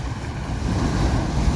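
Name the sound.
high sea waves crashing on shore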